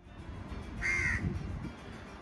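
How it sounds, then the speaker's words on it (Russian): Crows call in Egypt's Sharm el-Sheikh around breakfast time, with one clear caw standing out over a low outdoor background murmur. "Если в Турции кошки и собаки, то в Египте вороны и вороны. Это они ждут свой завтрак."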